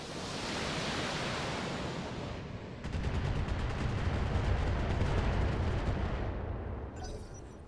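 Heavy mech weapons and missiles firing in the BattleTech video game: a dense, loud roar of launches and blasts that thickens midway into a rapid crackling barrage, with no talking.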